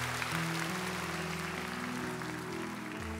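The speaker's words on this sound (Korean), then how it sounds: "박수하겠습니다." A Sunday worship congregation claps over sustained keyboard chords, the applause a steady, moderately distant patter above the held musical tones.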